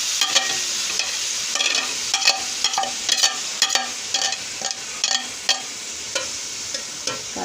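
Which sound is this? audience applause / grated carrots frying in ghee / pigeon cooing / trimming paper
grated carrots frying in ghee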